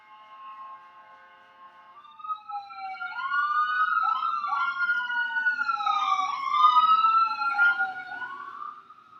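A steady tone gives way to a wailing emergency siren that swoops up and down repeatedly, growing louder as it passes, heard alone.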